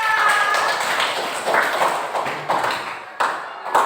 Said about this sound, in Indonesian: Tepuk tangan untuk Alifa.